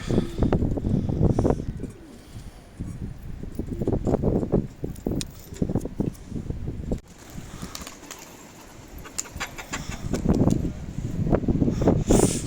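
Breeding pigeons coo repeatedly in soft, throaty bursts, close by, with faint rustling and shuffling in between.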